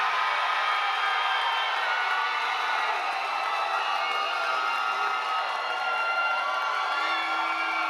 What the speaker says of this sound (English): Y'all know how we do it, by round of applause.